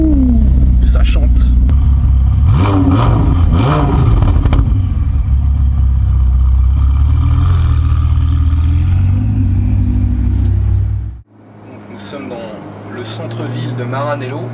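A 2018 Ferrari 488 Pista is driven hard, its engine revving loudly and rising in pitch through the gears before the sound drops off sharply near the end, then builds again.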